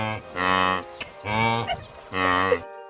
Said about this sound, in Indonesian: Suara wildebeest mirip suara kerbau